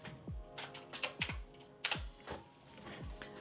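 Fingers tapping keys on a computer keyboard, a short quick run of light clicks close by with no talk.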